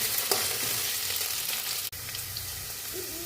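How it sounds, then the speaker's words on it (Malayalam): Potatoes and other vegetables for a tomato and bitter gourd fry crackle and hiss in a hot pan while they are stirred, with soft scraping strokes over a steady sizzle. "ഇതൊക്കെ നമുക്കൊന്ന് ഇളക്കി കൊടുക്കാം."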